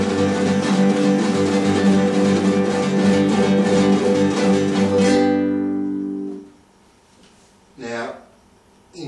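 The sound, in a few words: rasgueado rippling strum on guitar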